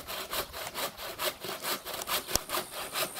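A hand saw works back and forth through a rotten wooden log on a swing, making a steady rhythmic rasp of about twelve close strokes in three seconds, with no talk.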